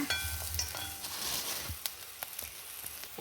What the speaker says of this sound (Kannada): ಈರುಳ್ಳಿ ಮಾತ್ರ ಸರಿ ಫ್ರೈ ಆಗಬೇಕು, ಒಂಚೂರು ಸರಿ ಕಲರ್ ಚೇಂಜ್ ಆಗ್ಬೇಕು ಫ್ರೆಂಡ್ಸ್